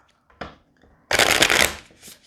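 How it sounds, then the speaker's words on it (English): Playing cards riffle briefly, then a longer bridge shuffle cascades close up, ending in a soft settling flutter. "I think it needs one more good bridge shuffle."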